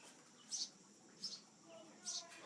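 Three short, high chirps from birds in a nest on a farm, spaced about a second apart, faint and a little distant, over a quiet outdoor hush.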